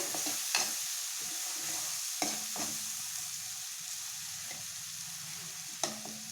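Egg masala with onions frying in a pan: a constant soft sizzle broken by occasional sharp scrapes of a spoon stirring against the pan.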